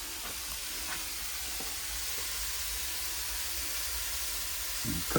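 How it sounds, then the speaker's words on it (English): Sausages cooking slowly in a pan on a woodstove, giving a continuous soft hiss and sizzle with a few faint knocks and a low background rumble. "I've got 2 more sausage here, so I'm just going to cook these also in there. I'm going to cook it nice and slow"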